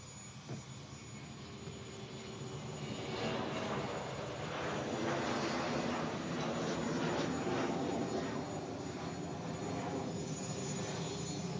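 A tri-jet airliner departs Honolulu airport, its jet engines building from a distant rumble into a loud, sustained roar over several seconds.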